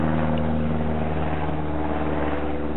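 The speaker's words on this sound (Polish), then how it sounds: "Następny samolot leci." An airplane passes overhead at dusk during a dog walk, heard as a steady low drone with a faint hum, constant and moderately distant throughout.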